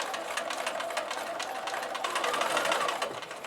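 A sewing machine stitches a fabric triangle for a pinwheel quilt block, a rapid, steady mechanical chatter running close and continuous for a few seconds.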